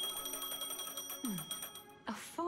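A phone rings in the video game Honkai: Star Rail, with repeated bright electronic ring tones close and clear over a steady musical background, followed by a short rising chime.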